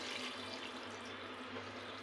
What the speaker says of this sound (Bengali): আর দিয়ে দিব পরিমাণ মতো পানি।